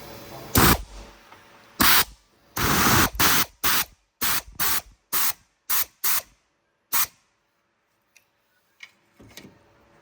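The earth terminal going back onto the battery of a Vauxhall Zafira Tourer, heard as a series of sharp, loud ratchet bursts at close range, spaced closer together and then stopping, followed by near silence.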